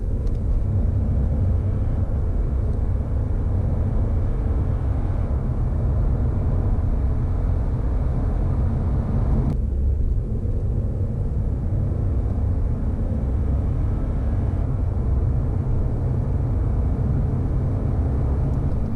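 A 2020 Audi A5 35 TDI diesel, a stock car, accelerates from 30 to 70, with a steady, loud low rumble of engine and road noise inside the cabin that runs continuously and shifts slightly partway through.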